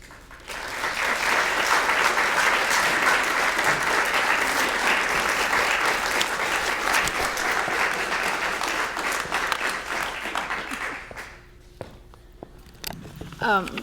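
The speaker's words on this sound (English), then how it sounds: "Just another quick round of applause for Ellen" Sustained audience applause for Ellen fills most of the stretch, a dense steady wash of many hands that fades out near the end, followed by a few faint scattered sounds.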